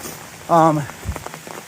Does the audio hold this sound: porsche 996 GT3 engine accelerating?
no